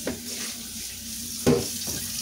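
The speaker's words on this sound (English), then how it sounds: "I'm just cleaning up a dirty pan here" A dirty pan is scrubbed clean over a steady hiss of running water, with a sharp scraping clunk midway and a softer swish near the end.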